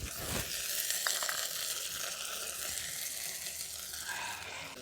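Chopped tomato added to a pan of well-fried potato and onion, steady loud sizzling and frying throughout with a few stirring clicks, no voices.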